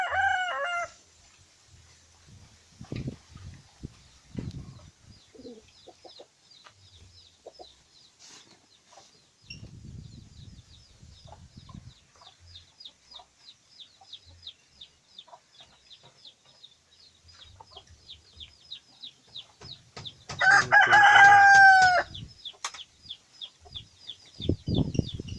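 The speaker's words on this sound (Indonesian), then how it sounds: "Itu ayam jagonya." A rooster crows loudly from a traditional old-style chicken coop. One full crow comes near the end, with scattered clucks and softer background bird calls around it and no talk.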